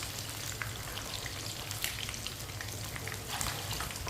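Chicken pieces fry in a pan on the stove, giving a steady, close sizzle and crackle with small pops throughout, no voices over it.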